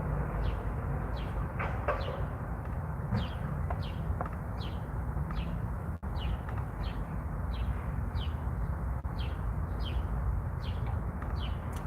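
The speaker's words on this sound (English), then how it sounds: "You ever hear the birds chirping?" Repeated high bird chirps and tweets in a steady series over a constant low rumble of background noise, continuing throughout.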